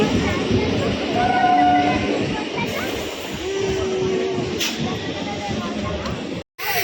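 A Diamond Harbour–Sealdah train rumbles and hisses steadily nearby as it arrives at a station, with faint squealing tones from the rails and a crowd murmuring in the background.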